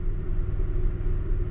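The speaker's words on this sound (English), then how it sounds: "Right now those fans are turning. They're spinning." Cooling fans on a parked Dodge Caravan spin steadily, giving a continuous low whirring rumble close by with no breaks or talk.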